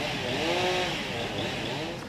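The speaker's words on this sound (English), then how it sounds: "They used chainsaws to cut up the trees after some of them fell on top of the cable car tracks." Chainsaws cutting up fallen trees beside a cable car track near a tram station in Hong Kong, a continuous buzzing engine whine with shifting pitch, mid-distance, mixed with faint background voices.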